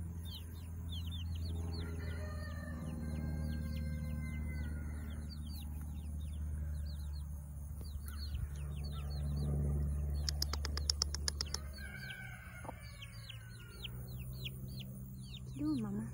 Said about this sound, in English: little chickies.